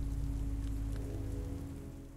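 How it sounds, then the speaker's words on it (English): Steady rain falls in the woods in The Walking Dead video game, a constant dense patter on surfaces with a low rumbling wash beneath, no voices. "Clementine and Krista sitting in the woods as it rains"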